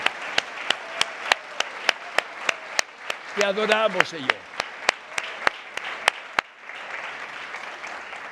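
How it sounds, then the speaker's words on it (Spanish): A church congregation claps in a steady rhythmic beat, sharp evenly spaced claps continuing throughout as a voice speaks briefly in the middle, before the sound broadens into a looser wash of scattered applause at the end. "Denle un aplauso a Jesucristo."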